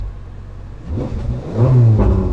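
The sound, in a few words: Ferrari 458 accelerating with exhaust valves closed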